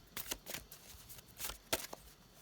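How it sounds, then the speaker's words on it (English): Tarot cards being shuffled by hand, giving several quick papery riffles and soft flicks in an irregular rhythm, close and fairly quiet, with no talk. "I did say I was gonna try to do some shuffling here today"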